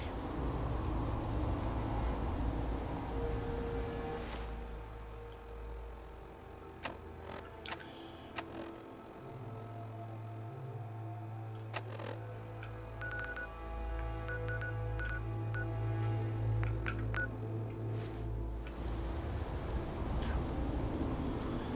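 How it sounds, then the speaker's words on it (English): Rainfall in the video game Fallout 4, a steady hiss of pouring rain under scattered sharp ticks and clicks, with a low droning tone through the middle stretch and the rain swelling again toward the end. "very grey, very miserable, it's pouring with rain"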